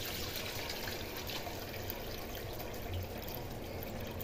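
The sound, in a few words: washing rice in water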